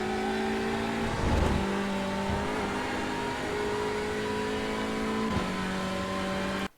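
A race car engine held at full throttle in a racing video game gives a loud, steady high-pitched drone. The pitch dips briefly at gear shifts and the sound cuts off abruptly at the end.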